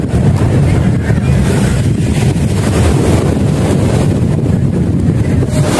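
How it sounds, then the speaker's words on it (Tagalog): Strong sea waves at the seaside roar in a loud, unbroken wash of surf and spray, with heavy rushing noise filling the whole stretch and no clear break between breakers. "Lakas ng alon"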